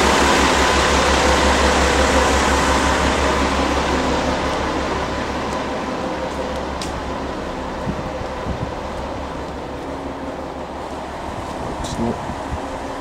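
A JR Kiha 41 diesel railcar idles steadily at a station, its engine a constant low rumble with fan-like hum, gradually easing slightly quieter over the span, with faint clanks near the end and no talk.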